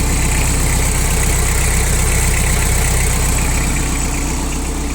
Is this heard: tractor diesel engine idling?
yes